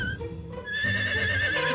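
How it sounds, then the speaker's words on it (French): A horse neighs in a cartoon-style makeover scene, a clear whinny rising over background music, with a brief dip before the call grows louder and holds steady to the end. "Nous avons déjà un cheval."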